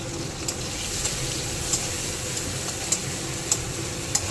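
Garlic and grated ginger, added for a palak paneer dinner, sizzle steadily in a frying pan, with a spatula tapping the pan at regular intervals, about once every half second.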